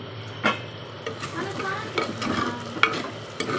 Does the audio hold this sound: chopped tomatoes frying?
yes